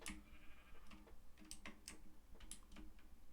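Sheep bleat in the Minecraft modded survival game, several short quiet calls spaced irregularly over a few seconds along with faint ticking sounds.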